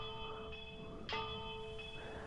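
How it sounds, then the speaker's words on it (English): In the ghost-hunting video game Phasmophobia, a bell rings faintly with a steady sustained tone that has a soft brighter strike near the middle, set against a low ambient hum. "I just like ringing that bell for whatever the reason"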